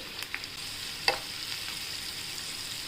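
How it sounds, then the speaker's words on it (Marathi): Onion sautéing in a pan with mustard seeds and curry leaves for corn upma, a faint, steady sizzle with a couple of soft stirring clinks and one brief scrape; no talking. "पण छान कांदा त्याचा कच्चेपणा जाईपर्यंत परतून घेऊया"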